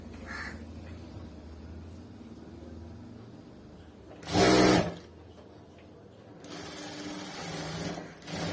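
A sewing machine stitches blouse piping onto cotton fabric in two bursts, first a short loud whirring run, then a longer steady stretch after a pause, over a quiet room background.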